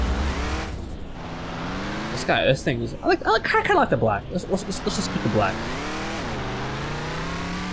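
Pickup truck engine in the Ranch Simulator video game, a steady droning idle that rises and falls as it revs, with someone talking over the middle.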